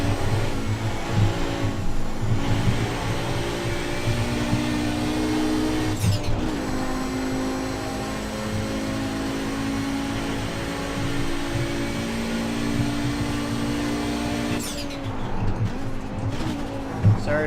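An Audi 90 Quattro GTO race car in the iRacing sim holds a steady, droning engine note with gear changes and shifting revs at about 6 and 15 seconds, loud and continuous throughout.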